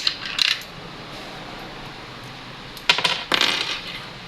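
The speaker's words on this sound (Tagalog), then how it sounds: "So dito natin makikita kung tama na yung basa niya o kumakain na siya ng mga barya." Coins dropping into a direct coin slot acceptor during calibration: one metallic clink near the start, then two more drops close together toward the end, clear and near against a quiet room.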